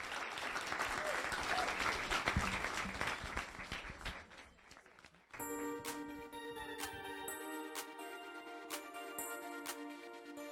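Warm applause from an audience at a Caribbean Christmas contest rises and fades over about five seconds, then gives way to sustained music with tinkling tones.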